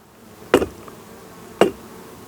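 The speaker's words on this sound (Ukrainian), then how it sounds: "А тут аж дивіться, прийшла оса." Wasp darting near a beehive during bee feeding, heard as two short, close buzzing bursts separated by quiet.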